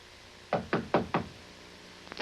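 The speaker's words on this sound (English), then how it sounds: "Well, let's knock on them." Four evenly spaced knocks on a wooden door, close and crisp, followed after a pause by a softer, quicker double knock.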